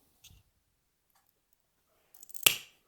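Tile nippers bite into a piece of clinker tile with a faint tick, then a brief crunching build-up ends in one sharp, crisp snap close by in an otherwise quiet space.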